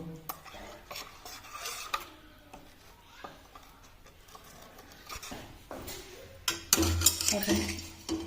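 Grated coconut dry-roasting in a pan, with steady scraping and stirring of a spatula against metal, light clinks of utensils and a faint sizzle, growing louder and busier toward the end.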